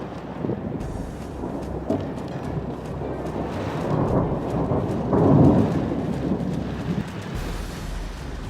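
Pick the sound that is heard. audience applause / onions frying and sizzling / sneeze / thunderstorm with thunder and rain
thunderstorm with thunder and rain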